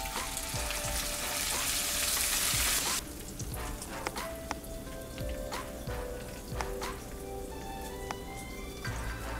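Flour-dredged Cajun-seasoned shrimp frying in hot oil, a dense crackling sizzle that starts loud and then settles into a steadier bubbling with scattered pops, close by.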